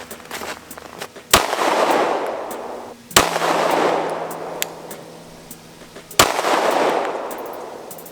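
Three loud, sharp 9mm gunshots strike a Premier Level 3A body armor backpack panel outdoors in the cold, spaced a couple of seconds apart, each cracking sharply and then decaying with a lingering ring.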